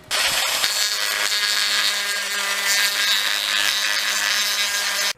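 Close, harsh rotary grinding and cutting of parts for a Kaneki cosplay mask from Tokyo Ghoul, a continuous abrasive whine that holds steady for several seconds with no talking.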